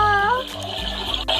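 A toy washing machine in a children's pretend-laundry play set gives a short electronic water-running sound, with a descending tone at the start and a watery hiss over a steady motor hum.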